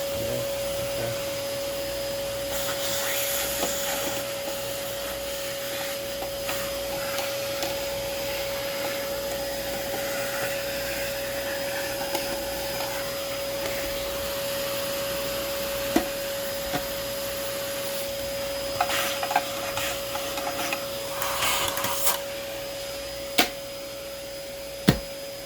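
A Dirt Devil Quick-Lite Cyclonic vacuum cleaner runs steadily with a constant whining motor drone and airflow rush, broken by a few faint clicks and knocks near the end.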